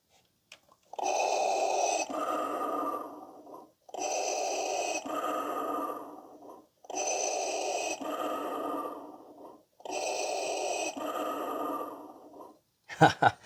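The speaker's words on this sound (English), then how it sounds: "That's the regular standard breathing without the labored breathing sound." Electronic breathing effect from a Hasbro Black Series Darth Vader toy helmet: four slow mechanical inhale-exhale cycles, each loud and hissy, separated by short pauses and ending with a click. Standard breathing, not the labored version.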